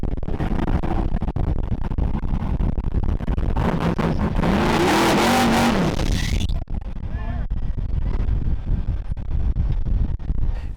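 A modified Jeep off-roader on a rock trail at Hell's Revenge or Rusty Nail, its engine throttled into a loud, rising rev for a couple of seconds amid wind buffeting and a rumbling idle, with voices talking around it.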